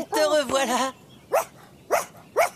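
A pet dog named Boris gives a short run of barks, three brief yelps spaced about half a second apart, following a stretch of close speech.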